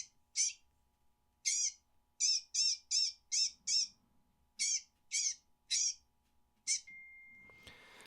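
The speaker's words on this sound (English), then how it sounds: "really good bobcat sound" A series of about a dozen sharp, high-pitched squalling calls in an irregular rhythm, loud and close, each short and raspy: a recorded bobcat call played from an electronic game caller.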